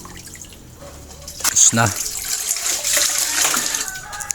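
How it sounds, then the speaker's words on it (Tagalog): Water running and splashing as food is rinsed by hand in a kitchen, with a brief sharp clatter near the middle and continuous trickling afterward while a voice speaks briefly. "Inuugasan natin ulit ng beses para siguradong malinis."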